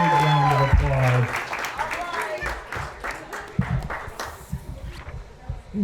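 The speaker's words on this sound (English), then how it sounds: "Let's give her a big round of applause." An audience applauds a storyteller at a live evening show, a burst of clapping mixed with voices that fades slowly under talk.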